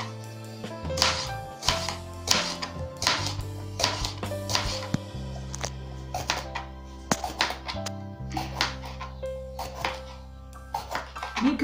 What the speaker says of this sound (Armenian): Հիմա նաև կիսում ենք պիպարը, այսպես կլոր օղակներով։